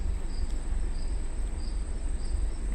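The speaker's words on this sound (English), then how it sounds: "They have cricket sounds, and sometimes you can hear bird sounds." Crickets chirp in a regular pulsing rhythm, played as ambient sound in the Central Park garden aboard the Harmony of the Seas cruise ship, over a low steady rumble.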